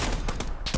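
Gunfire in the video game PUBG: a quick run of sharp, close shots bursting out in rapid succession, each crack loud and punchy.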